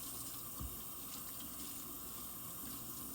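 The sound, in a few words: water running in sink while washing pet dishes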